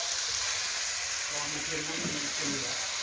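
Light soy sauce hitting a hot pan of stir-fried bacon for a Thai basil stir-fry, giving a steady, bright sizzle and hiss with a voice talking over it.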